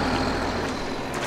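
A large RV rolls into a truck rest area, giving a broad, steady engine rumble and road noise that stays loud and even over a short stretch, with no talk.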